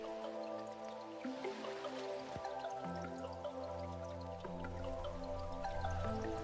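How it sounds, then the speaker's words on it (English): Water drips plink repeatedly as a sound effect in a dubstep track, scattered bright droplets layered over sustained synth melody and strings, fairly quiet throughout. "And of course, the water, to get across the waterfall sort of feel."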